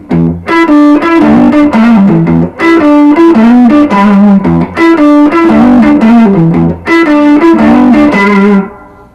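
A blues lick in G in third position is played on an electric guitar through distortion and chorus effects, with loud, sustained phrases repeating in a steady rhythm and ringing out at the end, alone without talk.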